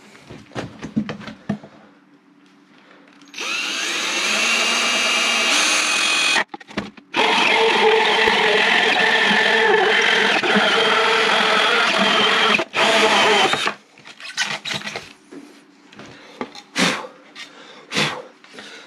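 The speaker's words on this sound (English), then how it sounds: "So I'm going to cut out a hole, a 4-inch hole in there." A power tool cuts a 4-inch hole in a wall for an exhaust fan, a loud sustained whine in two long runs separated by a brief stop, framed by clattering handling noises before and after.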